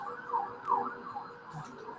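A fire engine siren wails, rising and falling in the distance, sweeping up and down in pitch over a low background hum.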